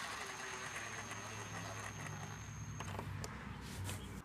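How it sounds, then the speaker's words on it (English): An impact driver run gently on headlight screws during a Subaru WRX facelift headlight install, a low, soft mechanical whirring with faint ticking, steady and close. "even though I'm using an impact, I'm doing this very gently because you don't want to strip these out"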